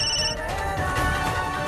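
A phone rings in a Hindi TV drama scene, giving a brief electronic ringtone with steady melodic tones, fairly loud and with no talk over it.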